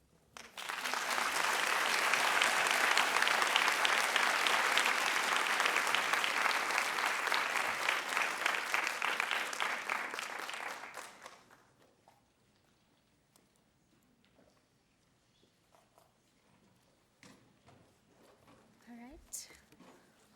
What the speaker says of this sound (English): One more round of applause for Dr. Hertel.